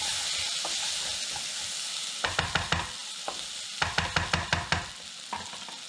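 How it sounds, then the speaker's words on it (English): A spoon stirs rinsed red lentils in a pot with quick scraping strokes, two bursts of rapid rhythmic clatter over a soft sizzling hiss, close and fairly loud. "these are rinsed lentils. Give them a quick stir."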